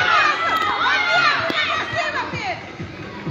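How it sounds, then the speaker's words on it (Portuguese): Mothers shout from the edge of the pitch during a youth football match in Boa Vista, high excited voices overlapping in a loud, continuous crowd din close by. "E as mães gritando aqui na beira do gramado aqui"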